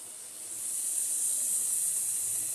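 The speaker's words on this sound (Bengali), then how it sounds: "তারপর ঝোলের জন্য আলুটা কষে নিচ্ছি।" Potatoes frying in a pan for curry, a steady bright sizzle and hiss that swells after half a second and holds evenly, close and alone.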